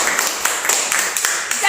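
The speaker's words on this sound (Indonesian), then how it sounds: "Oke, tepuk tangan untuk mereka." A classroom group clapping in quick, uneven bursts, a short scattered round of hand claps over under two seconds, close and fairly loud.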